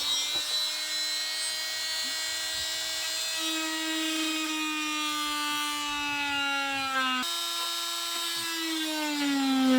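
A high-pitched power tool whines steadily while cutting into a Corvette C7 bumper to fit a ZTK wing, its tone sagging under load, briefly breaking off and restarting, close and continuous with no talking.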